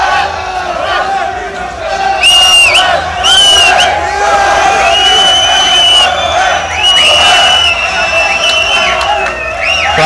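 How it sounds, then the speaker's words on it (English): A huge Battle Arena crowd roars for fighter Kledi Disha, with loud sustained cheering, whoops and shrill whistles rising and falling throughout. "Crowd going absolutely wild for him."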